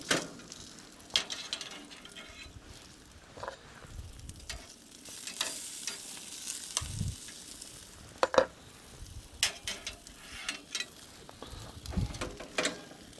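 A steak sears on a Blazing Bull infrared cooker with rosemary, giving a soft intermittent sizzle broken by clacks and scrapes of handling and flipping, fairly quiet and close.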